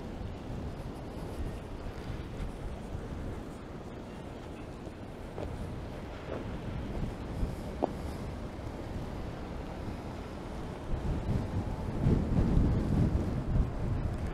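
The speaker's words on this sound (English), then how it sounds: "Wind is kicking up right now, blowing left to right." Wind gusts across a snowy Toronto street at night on Bay Street, a steady low roar buffeting the microphone that swells louder near the end, with no voices.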